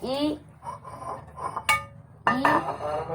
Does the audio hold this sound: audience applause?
no